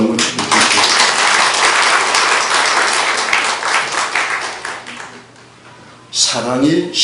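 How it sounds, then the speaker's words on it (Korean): Congregation applauding in a church, a dense wash of clapping that carries on for several seconds and then fades, with a voice speaking near the end. "박수 한번 주세요."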